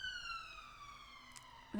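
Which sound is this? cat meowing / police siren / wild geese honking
police siren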